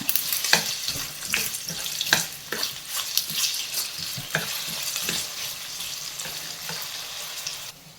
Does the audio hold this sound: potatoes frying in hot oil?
yes